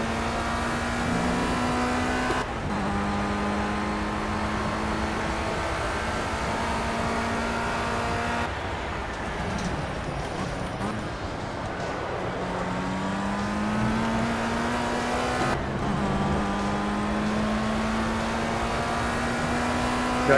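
Race car engine in Project CARS at Donington Park, revving high and accelerating steadily with rising pitch through the gears, with brief shift drops in between, loud and continuous.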